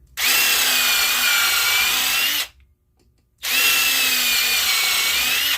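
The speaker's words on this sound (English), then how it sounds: "Let's pre-drill a couple holes here." A power drill bores pilot holes into wood in two loud, even bursts of about two seconds each, separated by a short pause, the motor whine close and steady.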